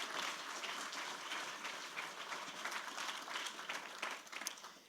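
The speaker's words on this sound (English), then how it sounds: "Let's give them a big round of applause" At a pitch competition, an audience claps in a continuous round that stays quiet and somewhat distant throughout, with no voices.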